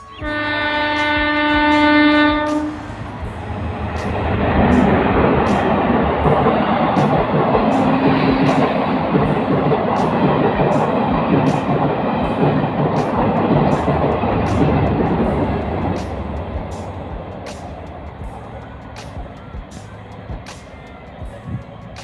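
A DEMU train horn blares for a couple of seconds, then the train rumbles past nearby with rhythmic wheel clatter that gradually fades.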